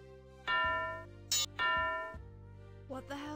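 A bell in the Simon the Sorcerer point-and-click game rings out as clear, sustained tones, struck twice in close succession and then once more faintly near the end, with no one talking.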